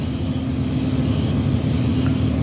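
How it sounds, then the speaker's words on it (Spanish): Many cars entering the Lincoln Tunnel in New York after the toll, heard as a dense, steady engine and road roar with a constant hum, loud and unbroken. "Muchísimos carros ingresan."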